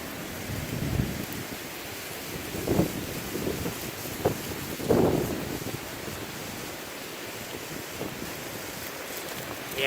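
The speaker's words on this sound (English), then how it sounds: "Wind's pretty bad." Strong wind roars during a Northern California wildfire, gusting in uneven buffets against the microphone with a steady rushing background and a few louder bursts.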